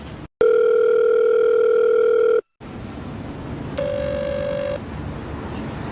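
A mobile phone ringback tone heard while calling someone: one long, loud steady tone lasting about two seconds, then after a short gap a fainter, shorter tone over background hiss.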